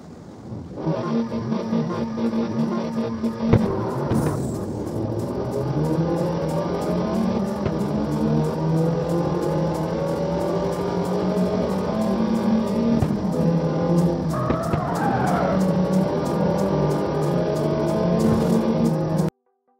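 Racing cars roar through a race event in the mobile video game Forza Horizon 5, a continuous loud engine drone with rising and falling revs and gear shifts, several cars passing close by.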